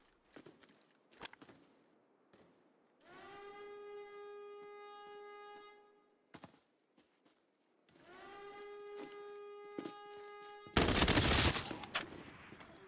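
Gunfire in a video game, including headshots, arrives as a dense, loud burst near the end, after soft footsteps and two long, steady siren-like tones.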